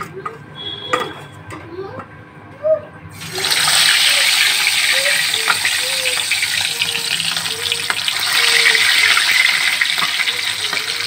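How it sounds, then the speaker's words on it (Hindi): Pieces of fish fry in a pan for a fish curry, a loud steady sizzle that starts abruptly and keeps crackling and hissing throughout, with some faint background sounds before it begins. "और मैं सारे फिश को इसी तरह से फ्राई करने वाली हूँ"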